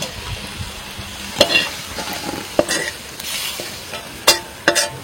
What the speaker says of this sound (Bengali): সয়াবিন গুলোকে আমি একটু হালকা করে ভেজে নিয়েছি